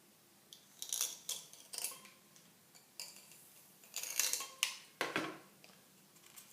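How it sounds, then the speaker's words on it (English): A hot-wire cutter slices a thin, papery sheet of polystyrene foam, giving a series of sharp, brief crackling and scraping bursts close to the microphone, with quiet gaps between them. "It just shows how effective this wire cutter is, how thin a piece of polystyrene you can pull off."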